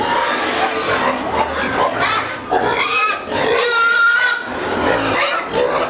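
Pigs in a farm piggery at feeding time squeal and grunt continuously and loudly at close range, with overlapping calls from many animals and faint voices mixed in.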